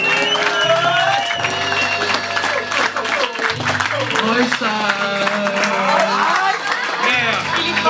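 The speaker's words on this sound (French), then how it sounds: "Un tonnerre d'applaudissements pour vous tous" Loud, sustained applause from a large crowd with cheering, while a voice speaks over it.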